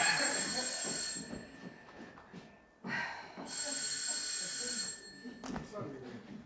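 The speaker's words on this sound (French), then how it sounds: "quelqu'un va répondre à ce téléphone" A telephone bell rings in loud, bright, sustained bursts, pausing briefly before ringing again, with people talking and moving beneath it during an improvised stage performance.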